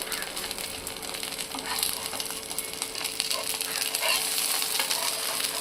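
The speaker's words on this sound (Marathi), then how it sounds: "हा डोसा पॅनवरती टाकून घेतलेला आहे." A dosa frying on a hot pan before being flipped, giving a soft, steady sizzle at close range with faint scraping and no talking.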